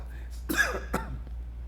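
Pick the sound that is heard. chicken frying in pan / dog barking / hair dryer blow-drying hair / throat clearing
throat clearing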